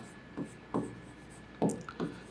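Pen scratching across paper in short strokes, four distinct scribbles spaced apart with quiet gaps between, close and fairly soft, no talk.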